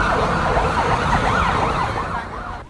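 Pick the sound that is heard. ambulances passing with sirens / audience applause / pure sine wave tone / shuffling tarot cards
ambulances passing with sirens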